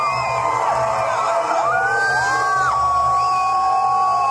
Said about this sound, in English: People can't scream or holler loud enough.